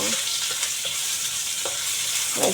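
Yellow bean curds light-frying in a pan for a garlic sprout and ham stir-fry give a steady close sizzle, broken by a few soft stirring scrapes and a louder crackle near the end.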